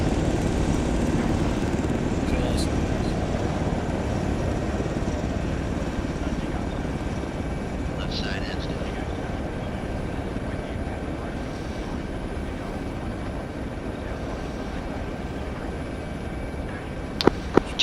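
Military aircraft taking off, a steady loud roar of engine and rotor noise that holds evenly and drowns out radio chatter, with a few sharp clicks near the end.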